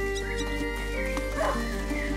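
A hunting dog in the video game A Plague Tale: Innocence gives a few yips and barks over a steady hum and music, with no talking.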